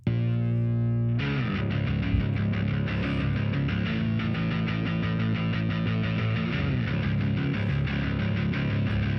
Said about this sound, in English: So bass just sounds like this.